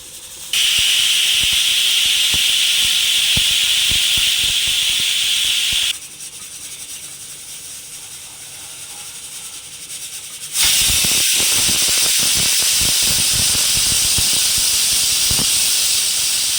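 A pressure cooker of vegetable pulao vents steam in a loud, sharp hiss, with two long blasts split by a quieter bubbling pause of several seconds.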